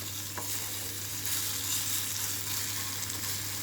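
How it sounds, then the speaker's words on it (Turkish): Tomato paste sizzles and crackles steadily in two tablespoons of hot oil in a pot, lightly frying, a continuous hiss under a low, constant hum. "Tenceremizin içerisine 2 yemek kaşığı sıvı yağını alıp üzerine de salçamızı ilave ederek çok hafif kavuruyoruz."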